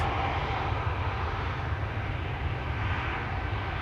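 An airliner registered PH-NXP, two years old, roars steadily at Schiphol Airport, a loud, continuous broadband engine rumble from close by with no speech.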